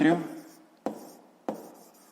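A pen scratches briefly on paper while math exercise notes are written, a short close stroke followed by two sharp taps or marks, with a voice at the start.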